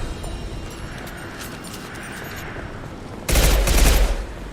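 A single loud, dense burst of automatic rifle fire erupts from Mass Effect 2 near the end, following a stretch of quiet rumbling game ambience with no talking.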